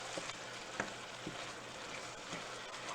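Chicken and noodles are stirred in a sizzling pan: a quiet, continuous fry with a few distinct scrapes and clacks of the utensil moving the food around.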